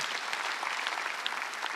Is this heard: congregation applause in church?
yes